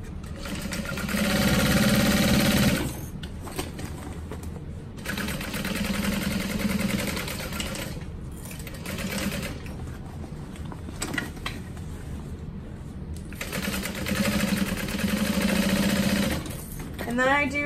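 A sewing machine top stitches around the top of a crossbody bag in several loud, steady runs, stopping and restarting between bursts of talk.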